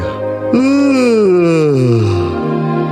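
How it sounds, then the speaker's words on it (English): A big, sleepy, drawn-out yawn from a children's alphabet read-along record, rising into a loud, groaning, voiced sigh that slowly falls away over about two seconds. "Y is for yawn, a big sleepy sigh."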